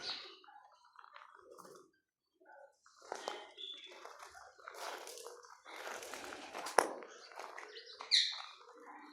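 Scattered bird chirps and tweets come in short irregular bursts, fairly faint, with brief quiet gaps between calls.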